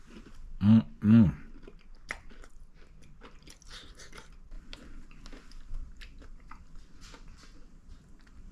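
Two loud crunchy bites of a sweet potato casserole's crunchy flour, sugar and nut topping, close to the mic, followed by quieter chewing and faint mouth sounds.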